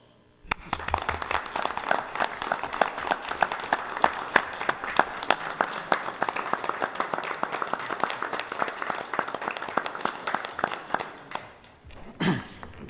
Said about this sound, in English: I'm positive that you deserve a round of applause.